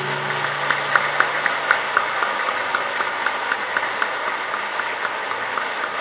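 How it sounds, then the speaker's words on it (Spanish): Congregation applauding for Jesus at a healing Mass, steady distant clapping that spreads into an even wash of applause and continues at moderate loudness. "Y le damos un aplauso grande a Jesús"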